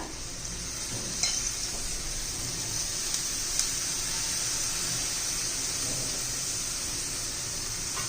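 Cabbage frying with peas in a pan for a Marathi vegetable dish, giving a dense, even hiss of sizzling and steam with a couple of faint utensil taps.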